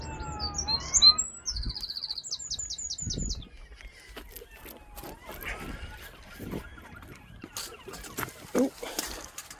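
Birds chirping in quick bright bursts, with a rapid trill at the start, over faint traffic and scattered outdoor noise.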